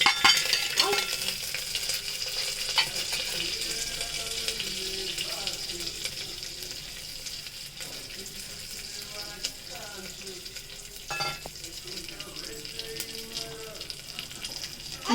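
Whole garam masala spices frying in ghee for a keema biryani, a low continuous sizzle with occasional clinks and stirring, plus some watery rustle in the background.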